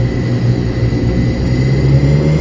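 Steady droning rumble of an Airbus A400 turboprop transport's engines in a flight simulator game, continuous and fairly loud with a low hum and faint high whine, no voices.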